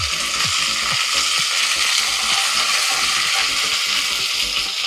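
Green chillies and curry leaves frying in hot oil, a loud continuous crackling sizzle with dense popping, close and steady throughout.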